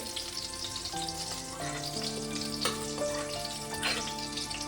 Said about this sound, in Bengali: ভেজে নিয়েছি মিনিট 2 ধরে। এবার মাশরুমটাকে তুলে নেব।